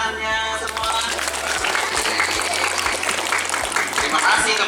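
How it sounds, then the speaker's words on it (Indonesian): Schoolchildren at an elementary school event clap together in a loud, fairly close burst, with a rhythmic low thumping beneath and some voices mixed in over the applause. "Pintar, boleh dong tepuk tangannya semua."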